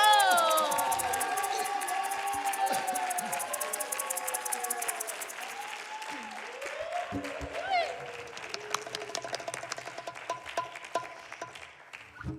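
Concert crowd at an outdoor festival show applauds and cheers for a performer. Whoops and shouted voices rise loudly at first, then a steady wash of clapping carries on at a slightly lower level.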